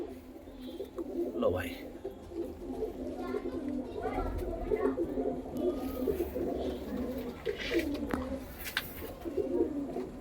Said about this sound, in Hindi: भाई पेवर पंजाबी कबूतर है बिल्कुल, और उड़ता हुआ नर है